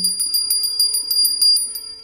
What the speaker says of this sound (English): Slightly play the bell.